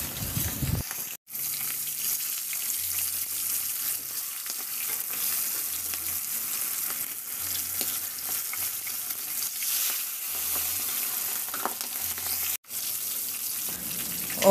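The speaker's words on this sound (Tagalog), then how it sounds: "At iprito na natin yung bangus." Milkfish (bangus) fries in oil in a pan, a loud continuous sizzle and crackle heard up close for the whole stretch, with no one speaking.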